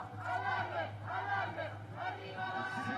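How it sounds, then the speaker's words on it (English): An Italian crowd at a junior women's recurve archery gold final in Cortina, Italy, cheering and shouting in rising waves of massed voices, fairly distant, over a low steady hum. "The Italian crowd looking to put a little energy into their archer as they head up to this last target."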